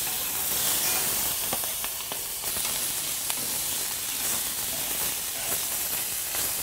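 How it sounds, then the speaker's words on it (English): Quail breast fillet frying skin side down in a hot pan, giving a steady, close, bright sizzle with small pops and crackles throughout, no voices. "Cook the quail breast fillet on the skin side first."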